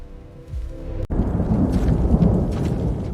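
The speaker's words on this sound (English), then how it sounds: "A solid metallic gold storm is approaching from the day side." A sci-fi metallic gold storm approaches as a loud roaring rumble, entering after a sustained hum with a sudden broadband surge and continuing as a dense, crackling, thunder-like roar.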